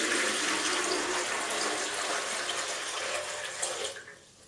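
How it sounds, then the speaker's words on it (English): Water pours steadily into a flower container lined with wire netting, a continuous bright rushing splash that holds for several seconds and then tapers off at the end, close and alone. "we'll top it up with water."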